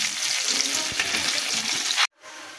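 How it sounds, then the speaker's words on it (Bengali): Garlic, onion and ginger fry gently in oil, kept pale rather than browned. A close, even hiss carries light stirring ticks for about two seconds, then cuts off abruptly and returns much quieter. "এখন আমি এটা হালকা করে ভেজে নিলাম, লাল লাল করা যাবে না"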